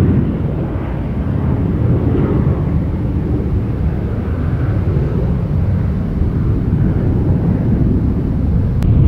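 A low, steady rumbling roar of an airplane passing overhead near Tampa airport, loud and continuous throughout with no voices.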